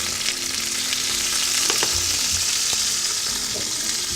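Pine nuts and peppers fry in a hot pan of sauce, a loud, close, continuous sizzle and hiss with a few soft clunks of the pan or utensil, and no voices over it.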